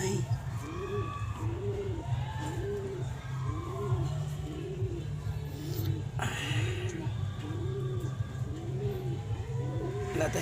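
A racing pigeon from an ARPCI derby in Cauayan, Isabela, coos in a steady, regular rhythm, with one call after another close by. A low background hum runs underneath, and a faint voice and murmurs are audible at times.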